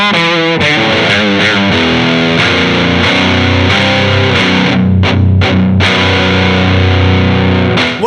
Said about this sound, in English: Let's move over to the Boneshaker, which has a semi-parametric 3-band EQ on it